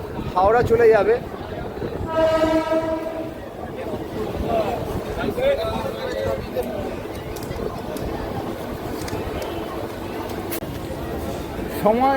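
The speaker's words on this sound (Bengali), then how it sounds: "পাঁশকুড়া স্টেশনে এসে ট্রেন কিন্তু পৌঁছে গেছে" A local train sits at busy Panskura station in West Bengal on the Howrah line, a horn sounding briefly early on, with rumbling carriages and a crowd chattering throughout.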